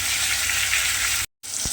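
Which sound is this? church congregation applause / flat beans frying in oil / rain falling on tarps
flat beans frying in oil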